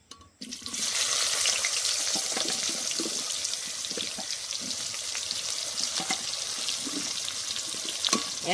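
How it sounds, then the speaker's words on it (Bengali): Raw jackfruit pieces drop into hot oil left over from frying potatoes and set off a loud, continuous sizzle that keeps crackling steadily, with no talk over it. "আলু ভাজা তেলে ইঁচড়গুলো ভেজে নেব।"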